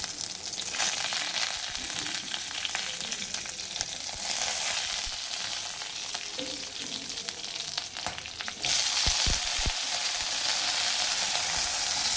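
Black cumin seeds and two green chilies fry in oil in a wok for a potato curry, giving a loud, continuous sizzle that flares brighter partway through, with faint stirring knocks near the end.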